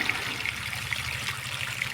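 A thin stream of water trickles from a small farm pump motor, running as a steady wet splash with a few brighter drips and a low hum beneath it, with no talking.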